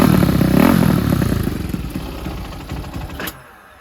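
Small ZS190 motorcycle engine fitted with a 212cc big bore kit, running rough near and loud with an intake leak, then sputtering, dying and stalling out into quiet.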